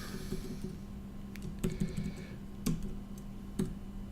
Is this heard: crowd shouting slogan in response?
no